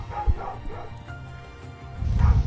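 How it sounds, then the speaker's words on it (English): A dog barks and yips several times in the background behind a racing broadcast commentary, the barks loud and bunched, strongest toward the end. "Sorry about the dog going off in the background."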